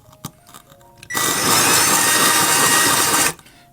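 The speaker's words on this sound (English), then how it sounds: "When you're cutting, just a little wobble like that helps it get through a bit better." Fused glass from a broken clock being cut with a power tool, a steady loud high grinding whine lasting about two seconds between a few quieter taps and clicks, close up with no talking.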